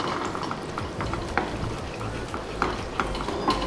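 A spoon steadily stirs Swiss sauce in a pan on the stove, giving a continuous close, wet stirring and soft sizzle with occasional light clinks of utensil against the pan.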